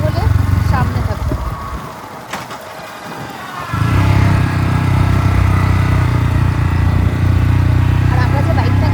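A six-gear motorbike rides a hilly mountain road in North Bengal near Sittong, its engine droning close and steady, dipping briefly before surging back, with voices talking over it.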